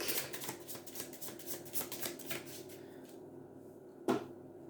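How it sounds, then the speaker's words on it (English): A deck of cards for the Lord of the Rings card game is shuffled up close in quick riffling bursts for about three seconds, then a single sharp tap of the cards follows. "So, shuffle up my out of play deck."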